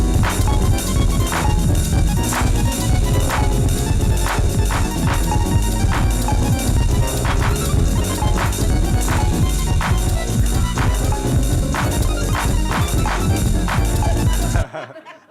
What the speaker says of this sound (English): it kind of sounds like a bunch of solo artists having sounds and instruments, random gear